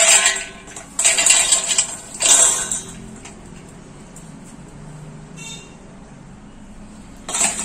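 Dry sabudana namkeen, a fried sago snack mix for Navratri fasting, is tipped into a bowl in a few rattling, clinking bursts. Quieter pauses fall between the pours, and a final short burst comes at the end.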